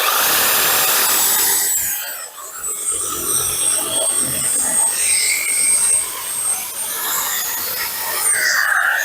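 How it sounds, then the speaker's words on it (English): A sawzall reciprocating saw fitted with a 6-inch blade cuts below ground level during a backyard cleanup, buzzing loudly and steadily up close for the whole stretch with a shifting whine. "I get my sawzall with a 6-inch blade. I just cut below the ground and just cut them off even."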